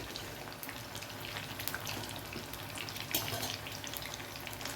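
Chilli chicken frying in oil makes a busy, crackling sizzle with scattered pops and bubbling, fairly quiet and continuous, with no speech.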